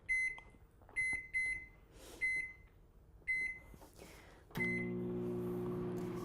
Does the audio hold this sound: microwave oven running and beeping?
yes